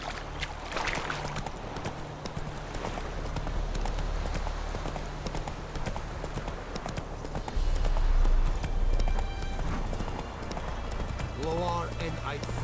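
Roach the horse gallops in The Witcher 3, a steady rapid clip-clop of hooves running throughout with game ambience beneath and a voice talking over it.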